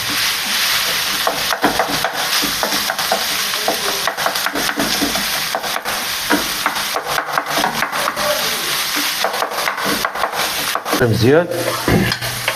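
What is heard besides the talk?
stirring onion and kefta frying in a pan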